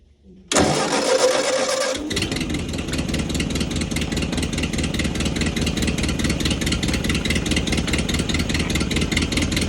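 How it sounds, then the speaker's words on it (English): A 1952 Ford 8N tractor engine cranks briefly, then catches and settles into a loud, steady, close-up idle with a rapid, even chugging rhythm. "but to start it, I'm gonna have to pull the choke out"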